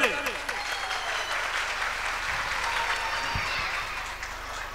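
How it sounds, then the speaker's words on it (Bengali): A crowd at a stage drama performance bursts into applause for a performer coming on stage, a sustained even clapping that carries on for several seconds at moderate volume, unbroken by talk. "তার জন্য জোরে একটি করতালি।"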